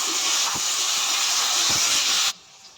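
Tomatoes dropped into hot oil for an Andhra-style uggani and bajji dish give a loud, steady steam-like sizzle that runs for about two seconds and then cuts off abruptly, leaving near silence.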